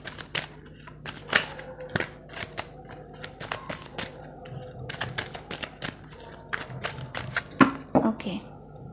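Two tarot card decks are shuffled by hand in a quick, irregular flurry of soft riffling clicks and snaps, close and fairly quiet, with someone talking partway through.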